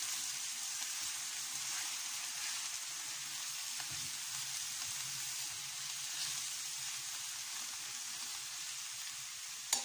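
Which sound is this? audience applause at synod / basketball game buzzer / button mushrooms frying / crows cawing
button mushrooms frying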